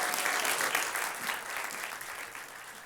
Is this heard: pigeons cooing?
no